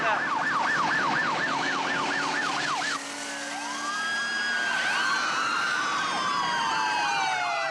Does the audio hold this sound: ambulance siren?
yes